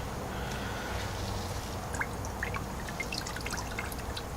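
Homemade grape wine poured during racking, a continuous trickling and splashing of liquid with small drips, close and fairly quiet, with no talk.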